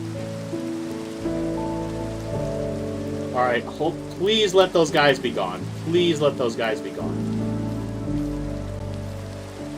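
Steady rain falls in the video game Minecraft, a constant hissing patter throughout, while someone talks anxiously over it in the middle.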